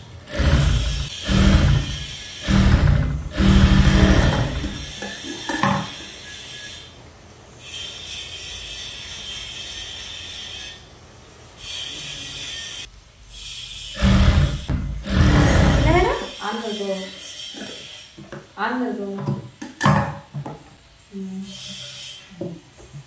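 A sewing machine stitches a folded blouse seam in loud bursts of rapid mechanical whirring, with pauses between runs where someone talks, followed by shorter stitching spurts.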